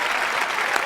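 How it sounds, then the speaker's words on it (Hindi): Brief burst of audience applause from a studio crowd, dense steady clapping filling the whole moment. "तालियां तालियां।"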